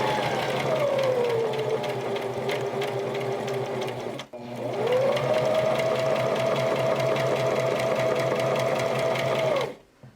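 A Brother mechanical sewing machine stitches a seam with a steady, loud motor whir, briefly pausing midway before resuming at constant speed and stopping near the end.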